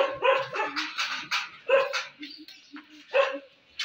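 A dog barks repeatedly in a fast, irregular series of moderately loud barks, fairly close, with no talking.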